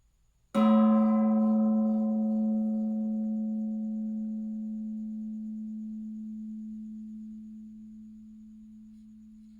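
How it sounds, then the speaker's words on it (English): A gong struck once, a sharp attack that blooms into a long humming tone, decaying slowly over nearly ten seconds in an otherwise quiet room. "we got to do the gong"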